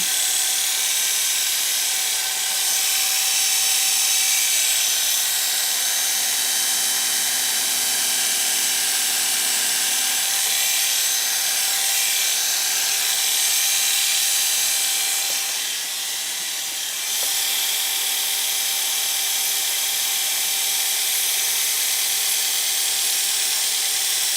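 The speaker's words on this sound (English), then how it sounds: "We may call this a clipper blade sharpening fail. I'll let it run." A sharpening machine grinds rusty hair clipper blades with a steady, loud, high-pitched whine and hiss that runs continuously for over twenty seconds with slight dips, and no one speaks.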